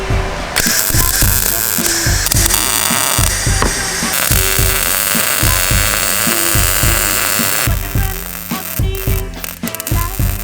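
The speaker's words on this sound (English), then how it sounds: "So I'm gonna finish welding them up right now." Steel rack mounts for a subframe are welded in a loud, close, buzzing crackle broken into short repeated bursts with brief pauses, continuing for several seconds.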